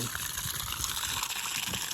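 Steady rushing water from a hose running continuously, a broad hiss with gurgling low tones, moderately loud and unbroken.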